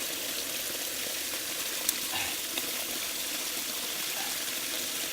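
Spring water flows out of a fountain in a steady, continuous rush that stays close and even throughout, with a faint click or two.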